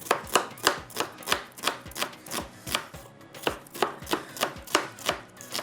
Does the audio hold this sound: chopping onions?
yes